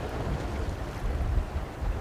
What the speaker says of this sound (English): maybe it's too windy